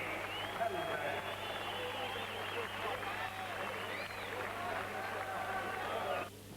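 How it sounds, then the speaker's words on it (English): Crowd at a boxing event applauding the new heavyweight champion, a sustained wash of clapping and cheering with an announcer talking over it before the noise drops off at the end. "give both men a big round of applause"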